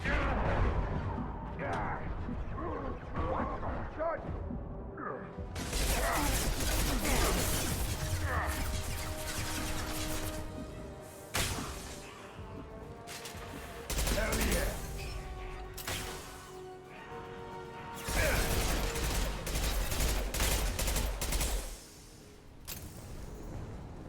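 Machine pistol fire in the video game Mass Effect 2 comes in dense, loud repeated bursts, mixed with impacts, crashes and other combat noise across the whole stretch, with short gaps between volleys.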